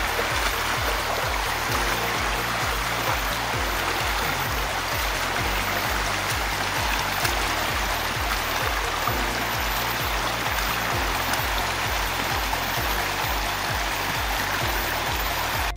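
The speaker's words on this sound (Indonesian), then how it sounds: "Ada air terjun kecilnya nih." A small waterfall spilling into a stream during an outdoor exploration in Purbalingga, with steady rushing, splashing water that fills the whole span at an even, close, constant level and no talking.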